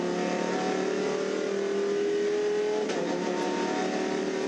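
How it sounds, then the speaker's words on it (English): Onboard a Lamborghini Huracan race car at Bathurst, the engine holds a loud, steady high-revving drone with a brief shift partway through, heard close and continuous with no talk. "So this is Marco Mappelli's view from the Lamborghini Huracan"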